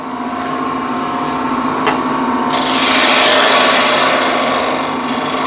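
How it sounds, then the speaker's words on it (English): Woodturning gouge cutting a spinning workpiece on a lathe, passing through the center with a steady, close, loud rasping scrape over a constant motor hum, growing brighter partway through. "you can close the gouge as you're coming through the center"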